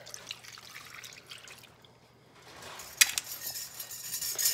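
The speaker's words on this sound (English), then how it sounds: "We're just gonna pour this all over the top." Water and McCormick brown gravy mix poured over a pot roast in an old baking pan, a faint liquid trickle that grows into splashing with light clinks of the pan near the end.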